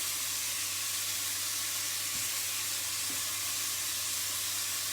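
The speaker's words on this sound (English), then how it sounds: "add the beef now. So I want to just kind of fry that gently just before we add the rest." Beef pieces frying gently in a pan ahead of a slow-cooked stew, giving a steady, soft sizzle and hiss with a low hum beneath and a couple of faint knocks, with no voices.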